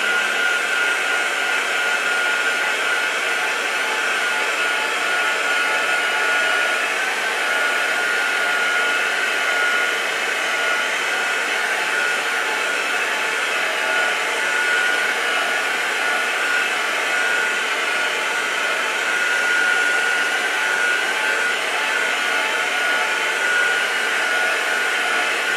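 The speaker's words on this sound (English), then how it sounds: "Now the next thing I'm going to do is I'm just going to take my heat tool" A handheld heat tool blows a steady, even whoosh of hot air while drying Pentart crackle paint, a constant close hiss-roar that holds unchanged for nearly half a minute with no voices.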